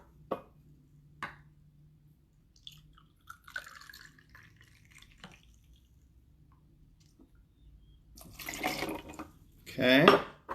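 Two ounces of vodka poured into a glass for a cocktail. A faint, quiet trickle follows a few light clinks of glass, then a short, brighter splash near the end.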